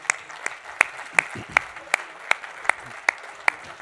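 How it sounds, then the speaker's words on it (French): A small audience applauds a senator at a sports-turf trade event, scattered clapping under a rhythmic series of sharp, evenly spaced loud claps close by, with faint voices underneath. "applaudissements pour le sénateur Joël Labbé"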